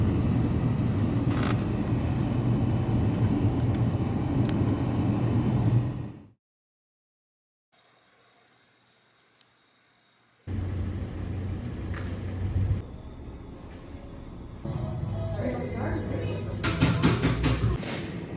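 Inside a moving car, a steady low engine and road rumble fills the cabin, drops out for a few seconds of near silence, then returns with some wind noise.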